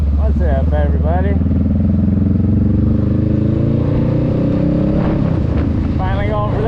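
A motorcycle engine rumbles loudly and steadily while being ridden in the rain, its pitch rising and easing with throttle, and a voice comes in briefly at the start and near the end over the motor.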